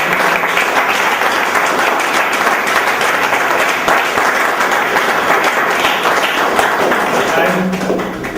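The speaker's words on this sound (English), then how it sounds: "let's give a big round of applause" A big round of applause from a gathered audience, loud and close, dense clapping sustained evenly for about eight seconds before easing off slightly at the end, with faint voices underneath.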